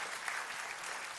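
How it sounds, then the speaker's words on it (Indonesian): Congregation applauding at a church service, dense, even clapping from many people that fills the whole moment. "Tepuk tangannya boleh yang paling meriah buat Tuhan."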